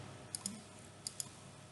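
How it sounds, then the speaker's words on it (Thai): Two quick double-clicks of a computer mouse while installing an MSI file, each pair of sharp clicks crisp and close, separated by quiet room tone. "ดับเบิลคลิกไฟล์ msi เพื่อติดตั้ง"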